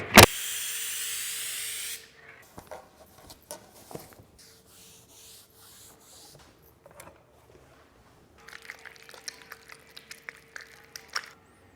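A screen-printing spray bottle gives one short, loud burst of aerosol hiss lasting about two seconds in a clothing studio. Quieter handling clatter, rubbing and a steady faint tone follow.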